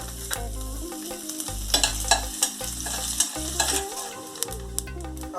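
Coconut pieces frying in oil in a pan over a low flame, a continuous sizzle broken by repeated scraping stirs, with music playing underneath.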